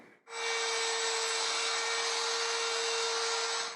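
Hand saw cutting the final 1/8 inch of a guitar neck joint held in an LMI neck joint jig, a steady, loud, continuous rasping stroke that begins after a brief pause and holds without talk.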